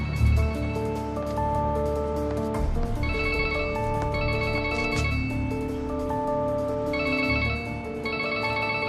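A mobile phone rings near a dumpster, a steady tonal ringtone melody repeating over about nine seconds with continuous background noise and no talk.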